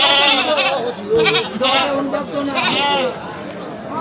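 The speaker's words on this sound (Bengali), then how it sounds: "ছাগল বাইন্দা রাখা হয়েছে" Goats bleating at a crowded village goat market where small and large local goats are tied up, repeated bleats rising over steady background chatter and voices.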